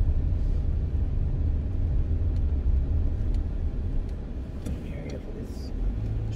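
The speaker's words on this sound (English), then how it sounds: "Truckity truck comes barreling down the road." Truck barreling down a road, a loud, heavy low rumble of engine and tyres that holds steady close by throughout, with faint voices mixed in.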